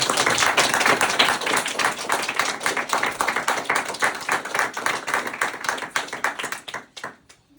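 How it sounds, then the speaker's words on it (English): A capstone presentation audience gives a closing round of applause: dense, steady clapping from a room full of people that tapers off and stops near the end, with no voices over it. "let's give her another round of applause"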